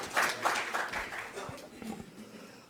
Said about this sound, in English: Mayor Randall Woodfin, please, one round of applause for him one more time